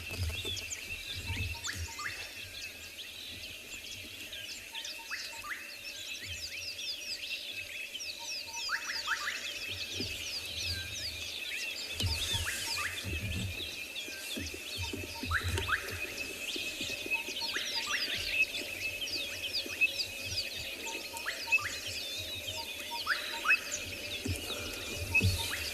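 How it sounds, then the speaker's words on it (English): Wild birds call at sunrise on a Kalahari safari at Tswalu, with many overlapping chirps, whistles and trills repeating near and far over a quiet outdoor hush and no talking. "maybe send in some of the bird calls you can hear"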